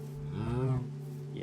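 A Minecraft cow gives one short, clear moo, close and moderately loud, with no talk over it.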